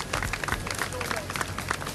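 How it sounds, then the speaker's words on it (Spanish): A beach crowd applauding with scattered, uneven claps and cheering, mixed with background chatter and a voice talking over the noise. "Ahí aplauden. Ahí está el momento del aplauso."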